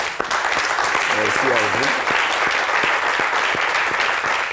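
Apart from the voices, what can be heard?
audience applauding the liturgical choir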